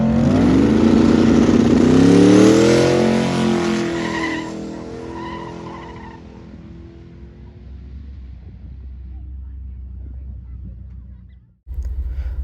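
A twin-turbo Mustang launches hard down a no-prep drag strip, the engine roaring and rising through the gears with tire noise, loud at first and then fading into the distance before a brief dropout.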